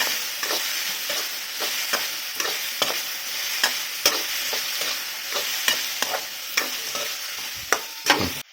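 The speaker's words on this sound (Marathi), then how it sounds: "याला थोडंसं मिक्स करायचं आहे" Chopped tomato being stirred into frying masala okra (bhindi) in a pan, with a steady sizzle under repeated sharp scraping strokes of the spoon about twice a second, close and fairly loud.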